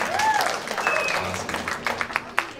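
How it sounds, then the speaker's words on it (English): Audience applause at a high school drama club theatre night, a steady wash of clapping with a few sharper claps near the end. "Extra round of applause for"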